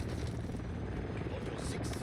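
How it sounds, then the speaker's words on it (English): Helicopter in the Call of Duty video game flying in, a dense continuous low rotor rumble under the game's voices and action. "Friendly overwatch helo entering the AO"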